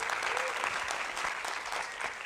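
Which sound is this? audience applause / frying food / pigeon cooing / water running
audience applause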